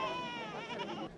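Goats and sheep at a Senegalese livestock market bleat close by, one wavering, nasal cry that fills the short moment on its own.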